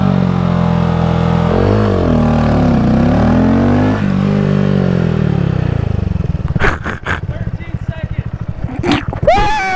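A motorcycle at a drag race launches from the line on hot tires, a loud sustained engine roar rising and shifting in pitch, then breaking into rough, choppy bursts near the end, with voices and crowd noise mixed in.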